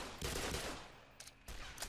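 MP5 submachine gun fire in Black Mesa, a couple of quiet rattling bursts in quick succession with a short pause between them, no one talking.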